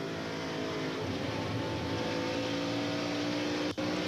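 NASCAR stock cars roar on throttle during the 2003 Subway 400 race, a loud, steady, sustained engine drone from the pack with a brief dip near the end.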